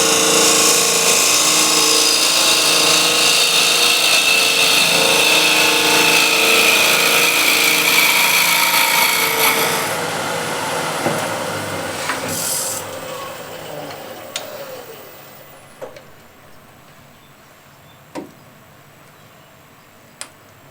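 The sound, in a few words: square end scraper cutting wood on a lathe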